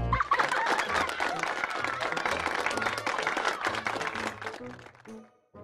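A group applauds in dense, steady clapping that holds strong for several seconds, then thins and fades out near the end, with faint background tones underneath.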